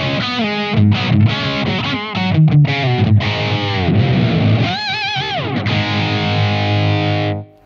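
Heavily distorted electric guitar played through a Blackstar AMPED-1 pedalboard amp on its KT88 voicing, cranked up: loud, saturated chords and bent lead notes ringing out close, then cutting off abruptly at the end.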